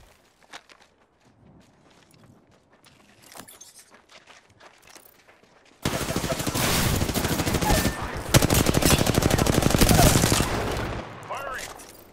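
Gunfire erupts in the Apex Legends battle royale game: after quiet footsteps and item pickups, a loud sustained burst of rapid automatic shots lasts several seconds, then cuts off, ending with a brief shield-recharge whir.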